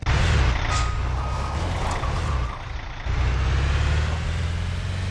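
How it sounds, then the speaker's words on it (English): Armored delivery van from a Left 4 Dead 2 cars mod in GMod reversing, a steady loud engine drone with backup beeps riding on top, the rumble briefly dipping midway before returning. "This is the armored van. Armored delivery van."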